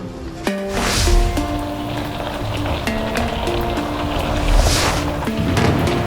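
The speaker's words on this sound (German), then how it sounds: "Derweil setzt der vorhergesagte Platzregen ein." Heavy downpour at a 24-hour race track in Duisburg, a broad steady hiss of rain close by with tonal electronic beeps and hums running underneath, no talk.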